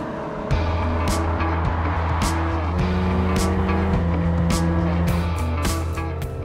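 A 2018 Kia Stinger GT sports sedan on the road, its engine droning steadily from inside with gear changes stepping the pitch, plus intermittent clicks and taps over the constant hum.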